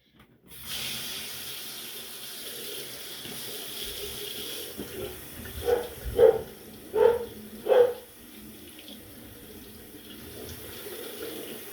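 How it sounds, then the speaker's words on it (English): Water runs from a tap while someone rinses off after a shave, a steady faint stream with a few louder splashing bursts near the end. "I'm going to finish rinsing off and I'll be back with the post"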